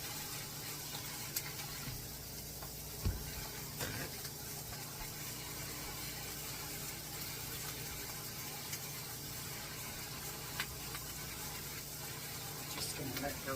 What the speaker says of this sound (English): Just going to let those sear.